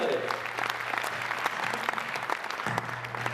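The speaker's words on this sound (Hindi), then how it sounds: "एक बार मोदी जी के लिए पूरा सदन तालियां बजाकर उनका अभिनंदन करे।" An audience at a Hindi comic poetry gathering claps steadily, dense applause carrying on throughout with faint crowd murmur and distant voices beneath.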